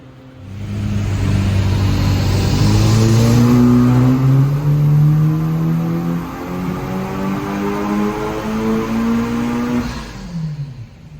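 A Honda Civic Type R FK8 engine on a dyno climbs steadily in pitch under load for several seconds, holds high, then drops off as the run is cut short, loud and close.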